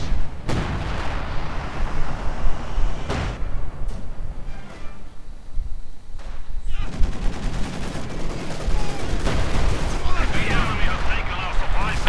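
Battlefield sounds from a Company of Heroes 2 match where an IS-152 heavy assault gun fires: booming artillery blasts and scattered gunfire crackle through a dense, continuous din, with a commentator talking over it.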